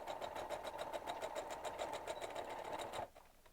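A sewing machine stitching fabric down near the edge, running in a steady rapid needle rhythm for about three seconds before stopping.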